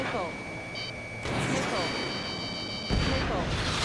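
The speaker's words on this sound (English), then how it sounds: "Bomber hit by a missile." A missile striking a bomber in Ace Combat 7, heard as deep booming impacts with a sudden surge at about one second and another burst near three seconds, layered over steady electronic cockpit tones and beeps.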